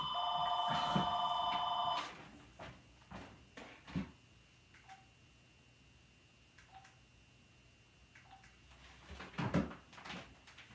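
A telephone rings once in a short bright electronic burst, followed by a few scattered knocks and clicks like a door or cupboard, with faint beeps in between, all fairly close in a quiet room.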